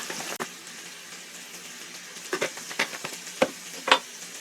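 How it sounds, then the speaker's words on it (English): Seasoned radishes frying in a pan with a spoon stirring them, a faint steady sizzle broken by several sharp scraping clicks later on, fairly quiet and close. "And then I'm going to stir this up."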